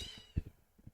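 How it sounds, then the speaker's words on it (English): A kitten meows indoors, a couple of short, fairly close cries with a brief louder call near the middle and fainter ones trailing after, with no speech over them. "now the other kitten wants in"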